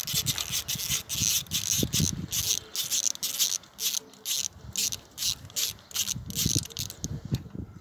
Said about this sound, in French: On défait le boulon de 8 pour le détendre.